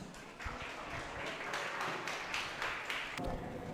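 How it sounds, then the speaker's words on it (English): An audience applauding a student storyteller at a school English-music festival, a soft, thin patter of scattered clapping, fairly faint and uneven. "Let us give Kenzo a round of applause."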